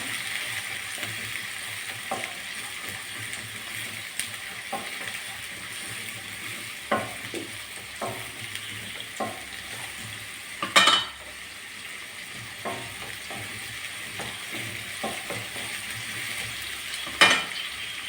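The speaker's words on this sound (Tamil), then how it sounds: "நல்லா வதக்கி விடலாம்." Steady sizzling of okra and green chillies sautéing in a pan with occasional clinks and scrapes of a spoon stirring, soft and continuous throughout.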